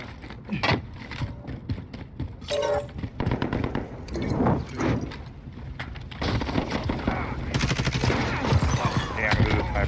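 Rapid automatic gunfire from the Call of Duty video game rattles in dense, overlapping bursts through the whole stretch, loud and busy, with scattered single shots and mechanical clatter between volleys.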